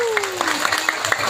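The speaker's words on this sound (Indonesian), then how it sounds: "tepuk tangan dulu dong" Scattered hand clapping from a small gathering at a religious lecture in a prayer room, with individual claps audible under an ongoing voice and a sliding tone.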